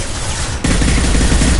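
Loud, dense burst of gunfire in the video game Mass Effect 2, a rolling barrage of shots that thickens and grows heavier partway through the brief moment.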